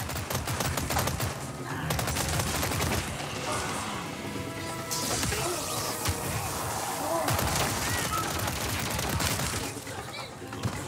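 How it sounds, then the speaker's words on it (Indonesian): Gunfire from the Resident Evil video game, a dense run of shots and impacts layered over game music and effects, with a voice talking over it. "Jadi dua tembak sepertinya."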